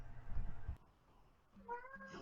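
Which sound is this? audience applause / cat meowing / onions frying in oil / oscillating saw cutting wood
cat meowing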